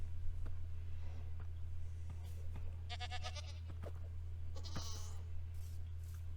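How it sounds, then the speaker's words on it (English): Goats in the Minecraft video game give a couple of short, nasal bleats over a low, constant hum. The bleats are moderately close and fairly faint. "saw my first goats"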